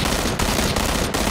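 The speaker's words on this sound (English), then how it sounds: "Burst fire." Burst fire from a gun in the shooter game PUBG, rapid close shots merging into a loud, dense clatter with three brief gaps between bursts, no voices.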